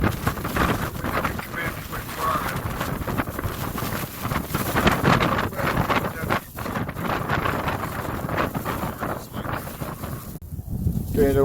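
Blizzard wind batters the microphone outdoors in Ames, Iowa, a loud, constant buffeting roar with gusty swells, and voices speak intermittently beneath it.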